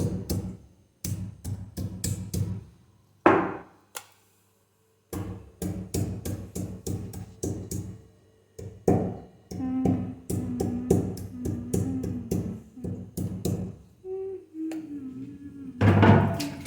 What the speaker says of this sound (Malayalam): ഇത് ഇഞ്ചി ഇടിക്കുക.